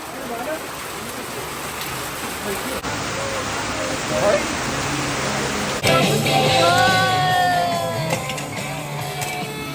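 Steady downpour of heavy rain hissing loudly throughout, with people talking and shouting over it in the second half.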